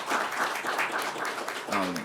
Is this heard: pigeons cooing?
no